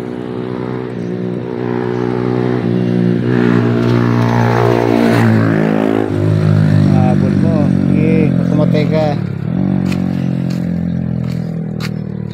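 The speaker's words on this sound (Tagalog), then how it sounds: "Motor sa kabila, oh. Motor." Motorcycle passing nearby on a street during a walk with a pet, its engine note rising and falling steadily over about twelve seconds, loud and close, with a second vehicle also audible.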